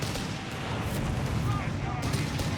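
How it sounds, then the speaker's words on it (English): Dense rocket artillery barrage from Company of Heroes 3, a continuous loud rumbling wash of explosions and launches throughout, with game battle sounds layered over it. "Massive barrage of rockets"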